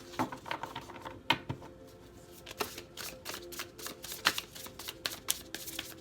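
A deck of tarot cards is shuffled by hand in quiet, rapid riffles and flicks with sharp snapping clicks scattered through about six seconds, close and fairly soft.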